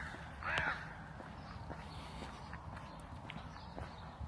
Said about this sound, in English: Look at this crow, symbolising the death of the community.